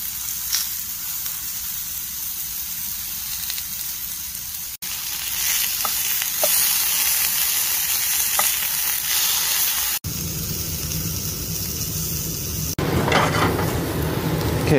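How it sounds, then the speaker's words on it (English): Zucchini, yellow squash and carrots fry in a hot pan with a steady, loud sizzle that runs throughout, rising brighter in the final seconds as fresh vegetables hit the oil, with occasional stirring clicks. "at this point I'm going to add my zucchini and yellow squash."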